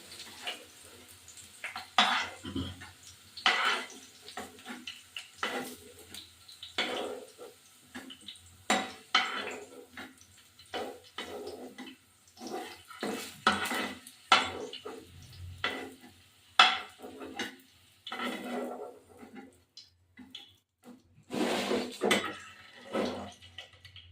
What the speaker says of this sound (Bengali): এবার আমি আলুগুলো তুলে ফেলবো।